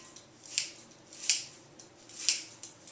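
Fresh cilantro snipped with scissors over a salad: three crisp cutting snips at a steady rhythm, close and fairly faint, with no talking.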